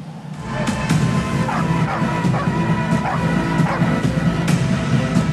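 Several stray dogs bark and yip repeatedly in a street in Dera Ghazi Khan, Punjab, with sharp overlapping barks over a steady outdoor background and no talk.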